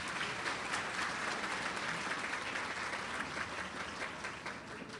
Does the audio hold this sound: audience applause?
yes